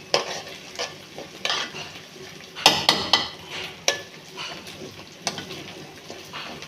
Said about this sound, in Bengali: আদা বাটা রসুন বাটা আর পেঁয়াজ বাটা এটা আমি ভালো করে ভেজে নেব